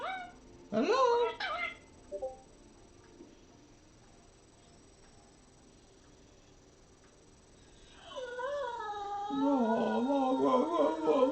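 A dog gives a few short, high whimpers early on, then a quieter stretch, followed by longer wavering whines as people talk over it.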